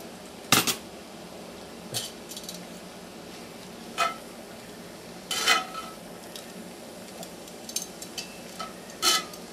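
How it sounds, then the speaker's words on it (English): Spinach is tossed into a pan of smoked St. Louis ribs and seafood on a grill and stirred, with sharp intermittent scrapes and clinks of a metal utensil against the pan over a faint background. "Now, throw in the spinach."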